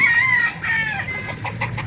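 Chickens and roosters at a poultry market in Calauan, Laguna, with full-grown stags among them, calling and clucking in a steady chorus over dense market noise, with a few clearer clucks standing out near the end.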